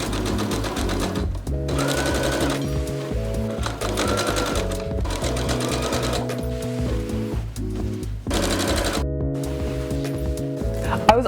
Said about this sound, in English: I used this red cording along with a cording foot and zigzag stitched onto the maze.